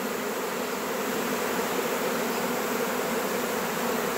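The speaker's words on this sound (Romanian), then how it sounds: "Ca să vă arăt ce blânde sunt aceste albine astea." Honey bees swarm loudly around a hive as a settled swarm fans its Nasanov glands, a dense, steady, continuous buzz with no voices.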